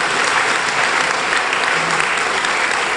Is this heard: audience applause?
yes